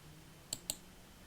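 A computer mouse clicks twice in quick succession while navigating a software menu, two sharp, faint clicks against quiet room background.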